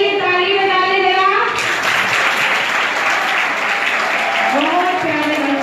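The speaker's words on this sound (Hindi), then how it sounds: "अपने खुद के लिए ताली बजा ले जरा।" Schoolchildren at a village school yoga camp in Amgaon Bada, Kareli, Narsinghpur, break into a burst of steady, crowded clapping lasting several seconds, with an adult voice speaking just before and again as it fades.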